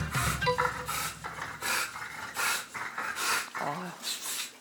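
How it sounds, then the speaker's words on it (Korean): An American Bully dog breathes with heavy, labored rasps, about eight rhythmic rough snorting breaths close to the microphone, with brief voices underneath. "숨쉬기가 힘들어서 저런 소리를 내는 거예요"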